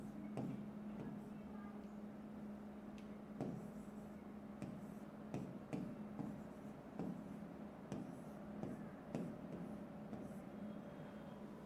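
Chalk taps and strokes across a board in short irregular bursts while chemical bonds are written, under a steady low background hum in a classroom.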